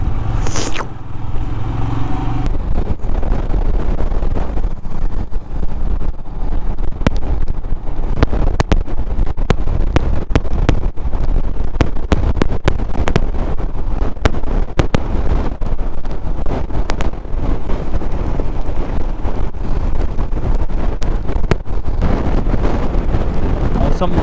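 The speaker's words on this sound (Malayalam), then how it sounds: "എന്തോ ഒരു പ്രതികാരം ചെയ്യാമെന്ന് പോലത്തെ ഒരു കാറ്റടിക്കുന്നേ." Strong sand-laden wind in Ladakh's Nubra Valley buffets the microphone with a continuous roaring rush, punctuated by gusty thumps and crackles throughout.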